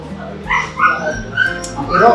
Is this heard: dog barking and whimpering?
yes